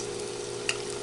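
Corn sorullitos (sorullitos de maíz) frying in hot oil in a pan, giving a steady, close sizzling hiss with one brief louder pop partway through; no talking.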